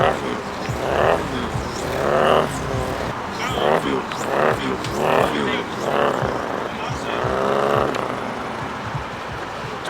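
A human voice imitates a diesel car engine with a series of rough, rattling revving bursts, rising and falling in short repeated pulses, close and fairly loud amid car meet background noise.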